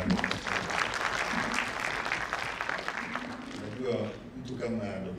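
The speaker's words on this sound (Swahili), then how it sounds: "Makofi mengine mengi sana kwa" Applause at an annual lawyers' conference, a dense crowd clapping steadily and loudly for a few seconds before thinning out near the end.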